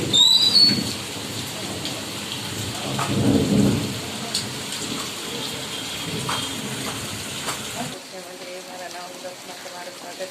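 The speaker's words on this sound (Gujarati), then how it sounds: "જો વરસાદ ચાલુ થઈ ગયો છે અને આપણે અહીંયા જો ડોલ પાણી પડે છે વીજળીથી વીજળી વીજળીનો અવાજ વીજળી જો કડકે છે" Heavy monsoon rain hisses steadily while thunder rumbles low and loud early on, then the storm quiets slightly toward the end.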